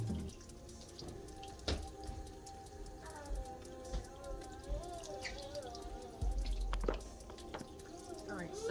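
Juice strainer rinsed under running kitchen tap water, a steady splashing stream with squishy scrubbing bursts, while someone talks throughout.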